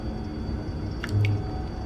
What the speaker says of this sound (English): First step, pour the wax, I suppose?